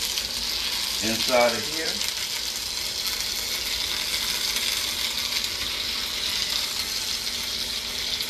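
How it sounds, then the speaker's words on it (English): Bacon-wrapped meatloaf portions stuffed with peppers and mozzarella sear in a hot pan, giving a loud, steady sizzle and crackle throughout, with a brief spoken remark from a man near the start. "And they're going to get a nice, good sear on them."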